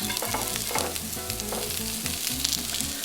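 Tempeh crab cakes fry in oil in a pan, giving a steady close sizzle with crackling spits and a few light bumps of the pan throughout.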